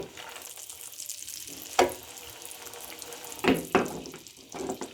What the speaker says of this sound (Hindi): पिस्ता और बादाम हमारे रोस्ट हो रहे हैं